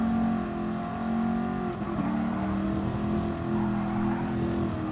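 A race car drives in Gran Turismo Sport during an online league race. The engine drones loud and steady with a sustained hum and brief shifts in pitch, and there is no speech in the clip.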